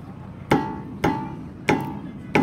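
Four sharp metallic knocks, evenly spaced and close, from a loose Bharat Benz truck wheel with bearing play, each strike ringing briefly before the next.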